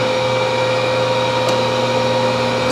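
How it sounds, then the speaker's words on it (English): A wood planer runs while flattening the top face of a board for a table build, giving a loud, steady, close motor drone that holds without a break, with no talking. "it's gonna go down on the planer, and that's gonna flatten the top side"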